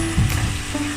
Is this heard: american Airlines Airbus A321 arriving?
no